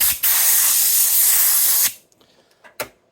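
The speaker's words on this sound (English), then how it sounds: "I need some more blower action." An air blower aimed at a brand-new Gibson SG Reissue guitar during a full refret lets out a loud, steady hiss for about two seconds, cuts off, and then gives one short puff.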